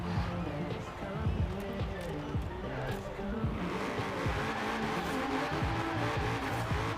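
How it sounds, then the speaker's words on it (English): A car in Forza Horizon 4 on drag tires, engine roaring and tires spinning at a drag-strip launch, a continuous loud revving drone with sputtering pulses, while a voice talks over it. "we get a lot of wheel spin from the launch there"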